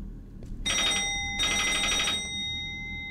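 A telephone rings in the indie horror game Inside the Walls, with two loud, bright electronic ring bursts separated by a short gap that stand out clearly against near silence.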